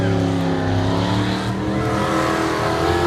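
A race car sliding around a short track oval at an auto race, its engine revving loudly and steadily with a strong droning tone that dips briefly midway, tires scrubbing under it, close and prominent.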